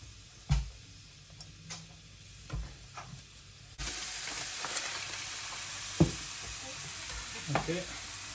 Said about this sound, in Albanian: Edhe skuqim qepën.